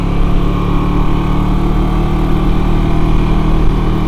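A Can-Am Ryker three-wheel motorcycle cruising along, its engine a steady loud drone with a constant low rumble and no change in pace, heard from the rider's seat without talk.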